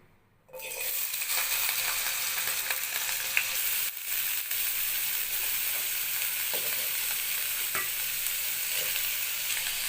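Capsicum, carrot, potato and paneer fry in a spoonful of white oil in a kadai. After a brief silent start, a steady close sizzle sets in, broken by occasional stirring scrapes and clicks, with no voices.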